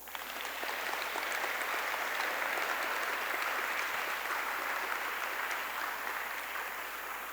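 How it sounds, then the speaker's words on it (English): An audience at an alumni awards ceremony claps in a sustained, dense round of applause that holds steady throughout, with no talking over it. "a big round of applause"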